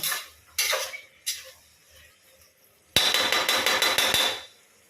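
A spoon stirs vegetable soybean pulao in a pot, scraping in a few short strokes and then in a longer run of rapid metallic clanks and scrapes, close and fairly loud.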